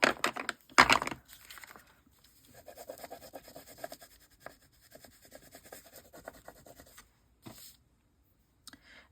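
Pencil scratching across paper in an art journal, short bursts of close scraping strokes separated by quiet pauses, with a louder rustle at the start.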